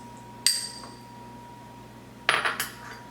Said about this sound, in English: I'm going to add the cream cheese.